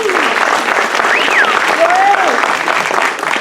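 A concert audience at CSU Monterey Bay in Seaside, California applauds steadily with dense clapping, and a whistle or cheer rises briefly above it.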